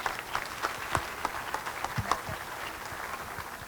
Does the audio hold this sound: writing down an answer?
no